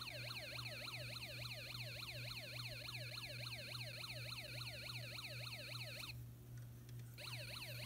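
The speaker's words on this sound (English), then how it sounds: "you will hear a police car siren and music playing faintly in the background." A wailing electronic police siren from a Snap Circuits toy circuit sweeps up and down repeatedly, steady and loud, with a low hum and faint music underneath; it cuts out briefly near the end, then resumes.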